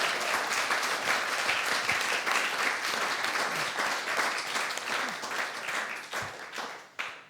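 An audience at a live music show gives a performer a dense, sustained round of applause, close and loud for about seven seconds, tapering at the end with a final brief clap.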